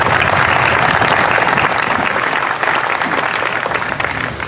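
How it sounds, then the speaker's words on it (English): An audience at a gun-rights rally breaks into loud, continuous applause, a dense wash of clapping that holds steady and only eases slightly toward the end. "Round of applause for my assistant there."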